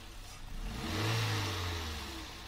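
Car engine revving steadily around 2500–3000 rpm while the throttle body is cleaned with spray, a continuous mid-pitched drone that swells in the middle and eases off, close and moderately loud with no talking.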